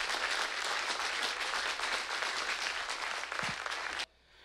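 Dense, sustained applause from a church congregation acclaiming the Lord during a worship service, loud and even throughout before cutting off abruptly near the end.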